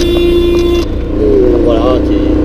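A tuk-tuk ride in Goa, India: a steady engine rumble runs under a long horn toot, and then shorter honks from passing traffic follow, close and loud, while someone talks over it.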